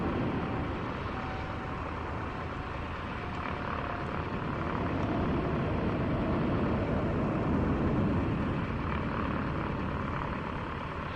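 Cessna 182Q piston engine in Microsoft Flight Simulator 2024, a steady loud droning hum that holds constant with a slight swell midway, no talk.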